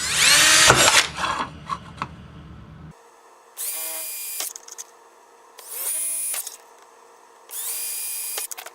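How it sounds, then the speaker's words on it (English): A power drill whines loudly in several bursts, drilling out the corners of a cutout in wood, with short quiet gaps between each run of drilling. "we're going to still take our drill and we're going to drill out the corners"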